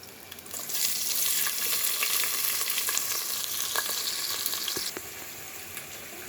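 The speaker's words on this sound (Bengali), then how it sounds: "পেঁয়াজটা একটু ভেজে নেব।" Chopped onion fries in oil with bay leaf and whole spices, giving a bright, dense sizzle that swells after the onion goes in and stays loud and steady, with a few faint clinks of stirring and no talk.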